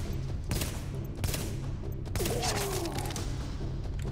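Gunfire from a firefight in The Division, a burst of loud shots near the start and again around the middle, with a crash and a sliding metallic whine toward the end, over constant game ambience.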